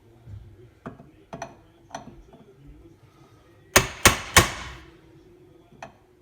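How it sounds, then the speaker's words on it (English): A hammer taps a chisel set against a bent metal control arm on a Dodge Ram 4x4: a few light, spaced clinks followed by three loud, ringing metallic strikes in quick succession, then one last lighter tap. "You can also get a chisel here, and then just put it right in the piece you want to bend back, and just Give it a little tap."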